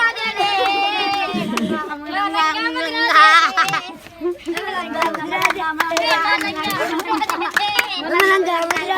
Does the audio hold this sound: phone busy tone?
no